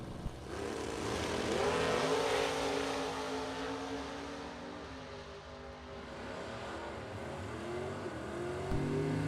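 Drag race cars, a Chevrolet Cobalt and a Camaro, launch at a bracket race with a sustained engine roar that rises in pitch as they accelerate away. The roar then fades into distant engine noise.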